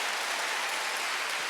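A church congregation claps together during a Sunday worship service, a dense, steady wash of applause with no one talking over it.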